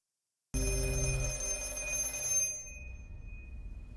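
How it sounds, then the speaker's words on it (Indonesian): A telephone rings in a steady, close electronic ring that starts abruptly, holds for about two seconds, then fades out. "Saat terbangun dari tidur, Finn mendengar telepon itu berdering."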